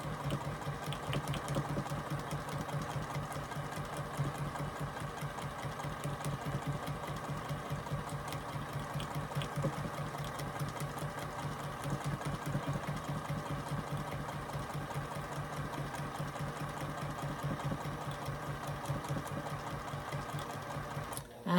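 A sewing machine runs steadily for about twenty seconds, stitching fabric around the center of a flower design, with a dense, even mechanical rattle at a constant pace and no talking.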